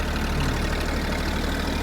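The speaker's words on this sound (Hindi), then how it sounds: "भाई देखो 10-35 ट्रैक्टर बिल्कुल लोड फ्री चल रहा है" A 10-35 tractor runs load-free with a KSD double-shaft 66-blade rotavator attached, giving a steady, close engine drone with no breaks or changes over the short stretch.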